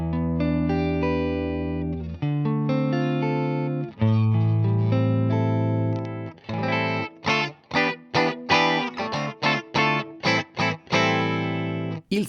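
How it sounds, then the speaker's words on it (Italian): Electric guitar played through a Boss IR-2 clean Boss amp model: sustained chords ringing out at first, then a run of short, choppy strummed and picked notes, loud and close. "Questo è il suono di un amplificatore Boss pulito."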